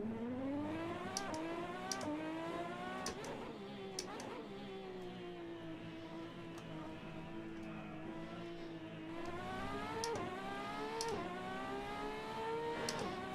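A Ferrari engine on the Zandvoort circuit heard close from inside the car, revving up and down through repeated gear changes, rising and falling steadily with short shift breaks.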